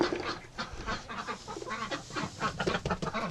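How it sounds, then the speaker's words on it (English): Chickens and ducks clucking and chattering in a breeding-duck coop, a steady close chorus of overlapping calls and squawks with no pause. "You're such a little cute chicken. Look at them."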